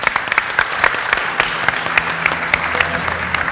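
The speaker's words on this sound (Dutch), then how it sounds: "Ja, even een applaus voor hem natuurlijk." A live audience at a late-night tech talk show claps in a brief burst of applause, moderately loud with individual hand claps standing out, and no talk over it.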